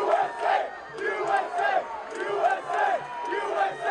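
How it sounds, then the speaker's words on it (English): Fraternity crowd at the University of North Carolina chanting and cheering in rhythmic, repeated shouted bursts, many voices together at a moderate distance. "I can recognize frat bro chanting anywhere."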